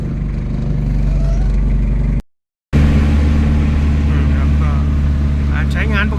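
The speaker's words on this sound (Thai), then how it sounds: "สตาร์ทนิ่มๆเลยครับคันนี้ ไปเดี๋ยวมาทดลองขับขี่กันดีกว่า" A used single-cab pickup truck runs loud and close, its engine note steady with a short break of silence midway before the drone resumes as it pulls away.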